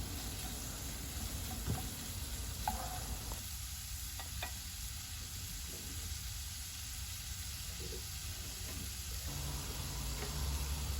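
Food sizzling in a cooking pan: a steady, fairly soft frying hiss that runs unbroken for the whole stretch, with faint clinks and no voices.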